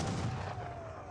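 Skirmisher musket volleys in an Age of Empires 3 battle, a dense burst of overlapping gunfire cracks and booms, loud and close, continuing without pause.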